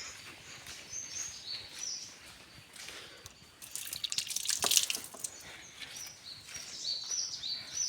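Green sour fruit rinsed under a running tap, a soft splashing water rush swelling in the middle, with birds chirping faintly outdoors in the background.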